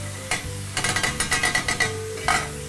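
Curry leaves dropped into a hot pan of oil with chopped onion crackle in sharp sizzling bursts, followed by a quick run of stirring scrapes and clatter, close and loud, with no talking.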